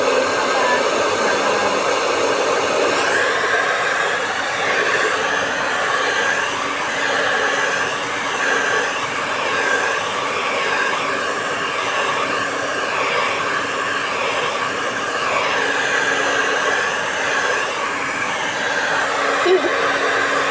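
A hair blower drying hair runs as a steady, loud, close whooshing roar for the whole stretch, with slight wavering as it moves around the head.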